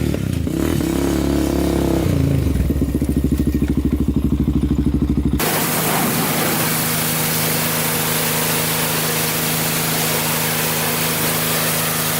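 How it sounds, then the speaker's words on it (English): A 400cc quad engine roars loudly while being ridden through wheelies, a throbbing pulsing exhaust giving way to a steady high drone with wind rush, no voices. "So this is definitely a good quad to practice wheelies on."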